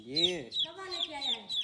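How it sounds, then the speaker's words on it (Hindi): A chick found in the ground in a village clucks and peeps in short repeated calls, close and clear, against quiet surroundings. "ओ सच में जमीन से मिला है चूजा?"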